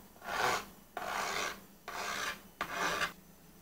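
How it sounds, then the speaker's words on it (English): A metal file scrapes along the sharp edges of an aluminium unibody MacBook Pro in four long, even rasping strokes, close and clear with short pauses between them. "you need to use a file instead of using sandpaper"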